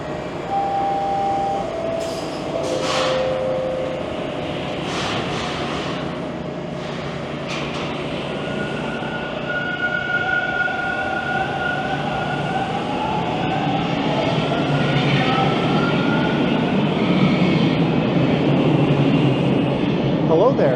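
Toronto subway train at Islington station hums and whines on the platform, rising into a louder rumble as it moves, with squeals, a chime and voices in the background.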